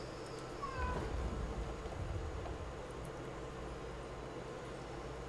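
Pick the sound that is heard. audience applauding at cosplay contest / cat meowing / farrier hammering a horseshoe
cat meowing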